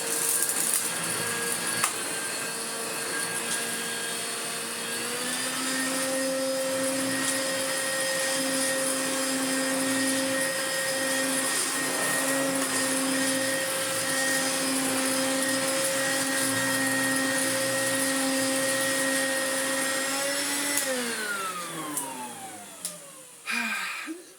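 A worn Hoover Turbomaster Electronic Total System upright vacuum cleaner, tired and needing new bearings, drones loudly and steadily up close, then its motor pitch sweeps down as it winds off near the end.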